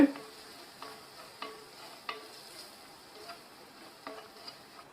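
Spices sautéing in a pan for potato fry, a soft continuous sizzle broken by regular spoon scrapes and taps about every second, close but quiet.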